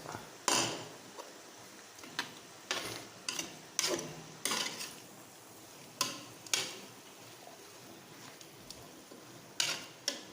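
Raw vegetables sautéing in a pan for vegetable biryani, heard as a series of sharp, irregular scraping and tapping strokes of a utensil against the pan over a faint background hiss.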